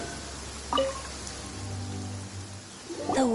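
Steady rain hisses in a Genshin Impact game world, a soft continuous patter under brief voice-like game sounds and a low tone.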